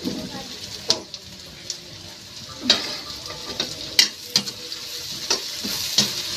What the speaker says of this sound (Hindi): फटाफट मैं भून देती हूँ